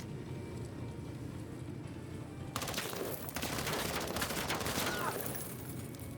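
Video game squad soldier firing, a quiet rumble that breaks into sustained rapid automatic gunfire bursts midway, dense and continuous until near the end.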